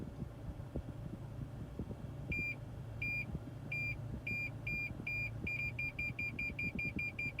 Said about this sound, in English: That's why we want the parking sonar